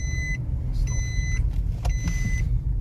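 Seat belt warning chime in a 2019 Nissan Rogue: three bursts of repeated bright electronic beeps, each lasting about half a second, heard close inside the cabin over a steady low engine and road rumble.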